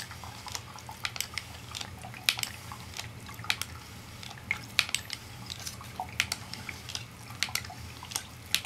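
An MSR Miniworks EX ceramic water filter is hand-pumped, giving soft rhythmic squishing and dripping of water at a steady pace, close and fairly quiet, without any voices.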